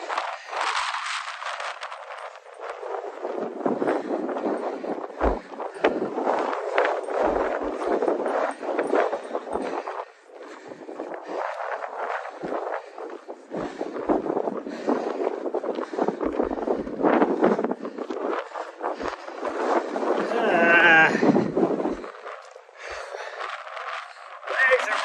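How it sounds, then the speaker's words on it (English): Gusting wind buffets the microphone throughout a long trail run in Montana, a loud, continuous roar that swells and dips in waves without letup. "that wind shifted direction too"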